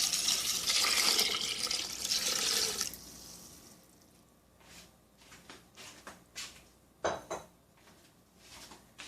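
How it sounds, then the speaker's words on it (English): Water gushes steadily into a pot for a few seconds, then stops, followed by scattered clinks and knocks of metal cookware nearby. "I'm adding 8 cups of water."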